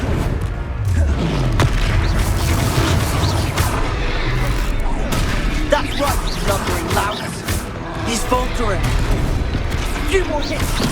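Fiery Confringo spell blasts in the game Hogwarts Legacy, a run of loud booming explosions and crashing impacts in dense, continuous battle noise, with speech mixed in.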